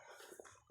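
A single sharp cough bursts out at the very end after near silence, close and loud, from a man with a sore throat.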